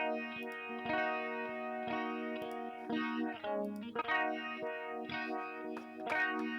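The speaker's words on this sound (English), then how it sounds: "we're in chorus mode. We're at a pretty slow rate, and we've got the depth up between about 7 and 8 here." An electric guitar through a chorus effect at a slow rate with the depth set high plays sustained, shimmering chords and picked notes, with no talking.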